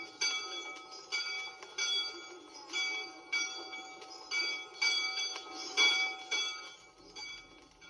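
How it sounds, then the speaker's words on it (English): The traditional dinner bell standing outside the Clinton Inn in Greenfield Village rings out in a steady series of about a dozen clear, ringing strikes, each chime overlapping the last's decay, heard alone at moderate distance. "The Clinton Inn and the traditional dinner bell that stands outside."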